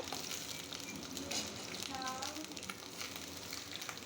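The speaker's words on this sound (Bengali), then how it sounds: "সর্ষের তেল এর মধ্যে পটলগুলো আমি দিয়ে দিলাম একটু লাল করে ভেজে তুলে নেব" Pointed gourd pieces fry in mustard oil in a wok, a continuous close crackling sizzle that holds steady throughout with no talk over it.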